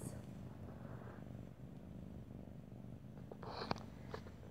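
A large three-month-old kitten purrs softly and continuously while being petted, a low, faint rumble with a few small background taps near the end.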